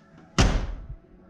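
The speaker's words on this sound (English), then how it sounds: "And when I close the door" A 1970 Lincoln Mark III car door swings shut with a single solid, close slam, followed by a brief dull thud as it settles.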